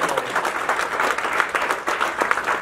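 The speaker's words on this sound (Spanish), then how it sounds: "Eso merece un gran aplauso de parte del Señor Jesucristo." A church congregation applauding steadily, dense clapping from many hands that fills the room without a break.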